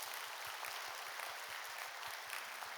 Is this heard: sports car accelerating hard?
no